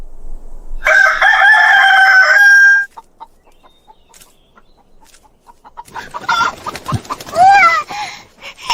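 A voice imitates a rooster's crow in a loud, drawn-out call, then quieter clucking and scratchy rustling follow.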